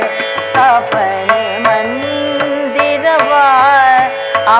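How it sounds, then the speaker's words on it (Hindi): Tabla beats keep a steady rhythmic cycle under a sustained male Hindustani classical vocal line, with a tanpura drone, as sharp strokes punctuate the singing throughout. "आपको ताल सुनाई दे रही है और देखिए आप एकदम से पहचान लेते कि तबले की आवाज है।"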